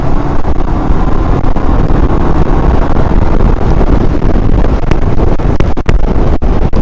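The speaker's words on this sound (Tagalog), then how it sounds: "lakas ng ulan." Heavy rain pelting down during a ride on a Vespa Sprint S 150 scooter, a dense continuous hiss mixed with wind buffeting the microphone and occasional sharp ticks of drops striking close by.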